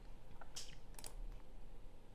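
A few quick keystrokes clatter faintly on a computer keyboard during flight simulator setup of an A340, with a short cluster of taps against a quiet room hum.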